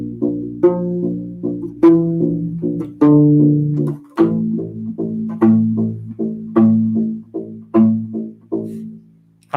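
A U-Bass plays a passage of the Westworld theme from measure 17, steady plucked low notes in a repeating rhythmic pattern, close and clear with no talking.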